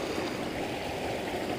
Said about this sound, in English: it's definitely a current below the surface of the water